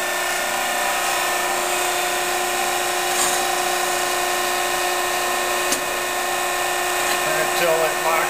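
A Conrac PHI tube bender runs with a steady, loud mechanical drone and hum as it advances to the next station, continuous and close, with only slight shifts in tone.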